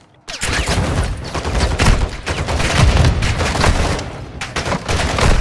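Gunfire in the video game Call of Duty DMZ, with an enemy sniper engaging: dense, loud, nearly continuous shots and impacts rattling close by for several seconds after a brief silent start.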